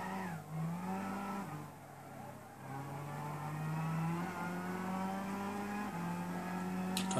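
Lexus SC450 GT500 race car in Gran Turismo 6 at the Nurburgring, its engine droning steadily and loud throughout with gear-shift pitch changes, a brief tire squeal near the start and a short click at the end.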